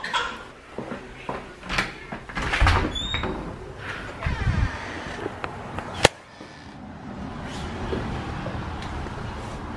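A house door opening on a cold evening, with a jumble of handle clicks, thumps and rustling followed by a sharp knock-like bang, then a low outdoor hum.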